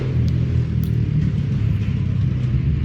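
Motorcycles rumble loudly outside in summer, a steady low engine drone filling the background and faintly passing, close enough to dominate the space.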